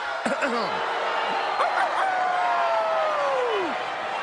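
A wrestler character in WWE 2K22 crows like a rooster, a human voice imitating the call with short yelps followed by one long drawn-out note that falls away, over steady game background noise.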